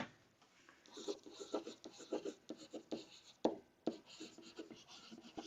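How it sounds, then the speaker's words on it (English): Marker or chalk writing on a classroom board during an Algebra II polynomial lesson: a run of quick scratchy strokes and taps in irregular bursts, close and fairly clear, with no talk over it. "let's write that right here."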